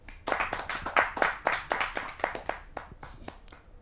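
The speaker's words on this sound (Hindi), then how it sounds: "आप सबकी जोरदार तालियों से" Audience at a Hindi kavi sammelan poetry gathering gives steady, moderately loud applause for a teacher, clapping continuously for several seconds.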